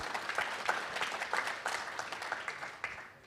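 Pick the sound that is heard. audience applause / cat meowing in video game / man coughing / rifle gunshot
audience applause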